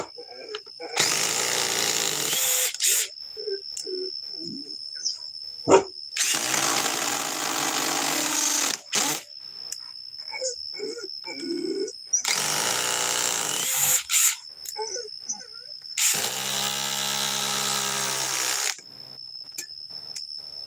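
A DeWalt power drill drives stripped screws, with four long loud whirring bursts of a few seconds each and quiet pauses between them.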